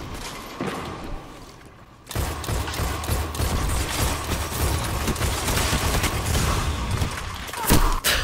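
Rapid grenade launcher fire rattles through a Destiny firefight. A quieter stretch gives way to dense, continuous bursts of booming shots and thuds, close and loud to the end.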